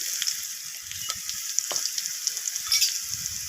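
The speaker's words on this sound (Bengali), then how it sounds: "তো সমস্ত কিছু মশলা এভাবে নাড়াচাড়া করে নিচ্ছি।" Red chilli powder and cumin powder stirred through fried potatoes in a pan, a continuous crackling sizzle broken by brief spoon scrapes and clicks, close and moderately loud with no voices.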